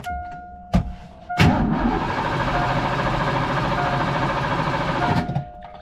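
A Foxbody Mustang engine running rough, sputtering through a brief catch before firing into a loud, uneven run that holds for about four seconds, then cuts out abruptly.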